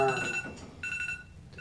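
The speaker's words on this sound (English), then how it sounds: "It's an alarm." A phone alarm sounds in repeated electronic tones, a short ringing burst that stops and restarts, moderately loud in a room with faint voices around it.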